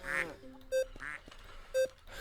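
Two short, nasal duck quacks from a farming and supermarket simulation game, evenly spaced about a second apart and clearly audible over a low background, each one bright and buzzy.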